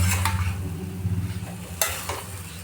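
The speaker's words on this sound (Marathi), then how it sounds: "तोंडलीला छान असं मसाल्यात मिक्स करायचं" Ivy gourd (tondli) is stirred into spice masala in a hot pan for a home-style vegetable dish, giving a steady soft sizzle with scraping spoon strokes and a couple of sharper clinks against the pan.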